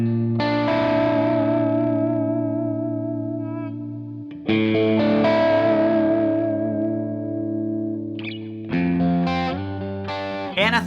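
Reverend Jetstream 390 electric guitar played through distortion, chorus and echo effects, sustained chords ringing out and decaying before fresh strums and short phrases, loud and close with no talking.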